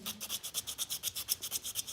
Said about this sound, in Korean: 그 다음에 바깥쪽 표면도 사포질을 해줄 겁니다